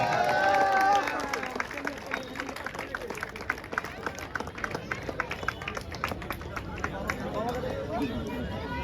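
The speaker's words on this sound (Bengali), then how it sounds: "জোরে হাততালি।" A crowd claps at a cricket prize ceremony honouring a quarter-final man of the match, a dense patter of scattered claps that stays steady for several seconds, with voices talking over it.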